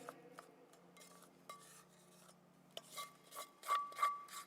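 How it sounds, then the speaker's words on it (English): Spatula scraping a gooey breakfast bar mixture from a bowl into a pan, sparse rasping strokes and light knocks that grow louder and more frequent toward the end, close and quiet with no speech. "Just throw it all in. Give the bowl a good scraping."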